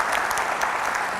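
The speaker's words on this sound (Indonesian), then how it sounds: "Kita kasih tepuk tangan untuk Panglima TNI." A studio audience at a televised talk show applauding for the Indonesian armed forces commander, a dense, loud, steady burst of clapping over a short stretch.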